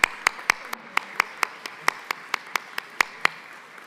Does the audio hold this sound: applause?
yes